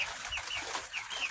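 Backyard chickens cluck softly near the coop in short repeated calls, faint and alone over quiet outdoor background.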